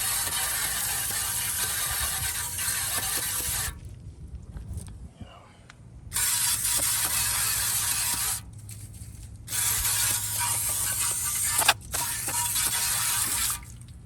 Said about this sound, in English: Spray a little brake clean down.